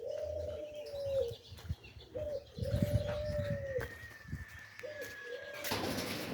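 Pigeons coo in a repeated series of low, rolling calls at close range, with a brief flutter of wings near the end; there is no talk.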